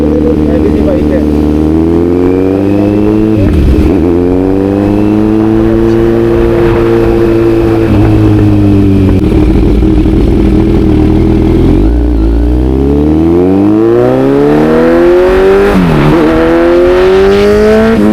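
A Kawasaki Z900 motorcycle fitted with an Arrow exhaust revs loudly and close, its engine note repeatedly climbing and dropping in long throttle blips over a rumbling idle, with a voice talking over it at times.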